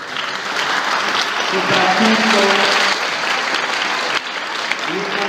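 An outdoor audience at a jazz and wind-band concert at Genoa's Porto Antico claps in a dense, sustained burst of applause, while someone speaks over it.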